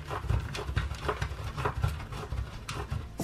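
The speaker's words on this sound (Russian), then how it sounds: "Натираю его на терке." Hard cheese grated by hand on a kitchen grater, a close run of quick rhythmic scraping strokes with soft thuds as the block drags down the blades.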